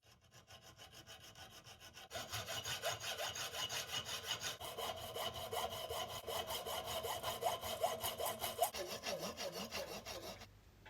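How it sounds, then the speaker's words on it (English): A hand saw cuts a metal lug held tight in a vise, rasping in steady, rapid back-and-forth strokes, close and continuous, after a brief quieter start. "I can grip that in the vise really tight to cut with the saw"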